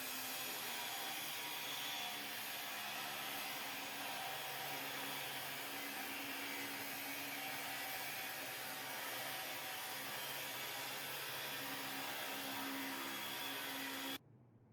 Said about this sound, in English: Okay, a bit more cutting with the big grinder.